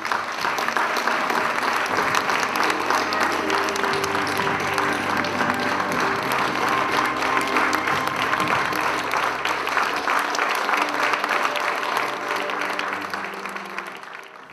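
A large audience at a 20th-anniversary gala evening gives one long, sustained round of applause in memory of a man named Ivan. The clapping stays dense and steady before thinning slightly toward the end.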